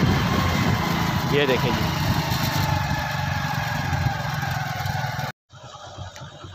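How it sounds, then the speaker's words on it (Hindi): A tractor drives a threshing machine at a rural worksite, giving a steady mechanical drone with someone talking over it. The sound cuts out briefly near the end, then resumes more quietly. "थ्रेशर लगा हुआ है, आगे उन्होंने ट्रैक्टर बांधा हुआ है और बहुत स्पीड से काम हो रहा है।"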